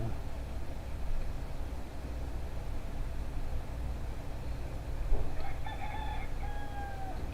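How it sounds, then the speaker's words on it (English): A chicken in the video game Elder Scrolls Online clucks and crows in short, thin calls late in the clip, faint above a constant bed of game ambience and low rumble. "this stupid chicken"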